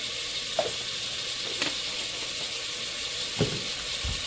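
Minced garlic sweating in a pan for barbecue sauce, a soft steady sizzle under the occasional light tap or scrape of a utensil, close and fairly quiet with no talking.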